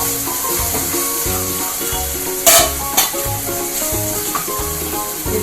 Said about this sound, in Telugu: టమాటా పేస్ట్ వేసుకోవాలి. ఇలా బాగా ఎర్రగా వేయించుకోవాలి, ఆయిల్ పైకి వచ్చేదాకా వేయించుకోవాలి.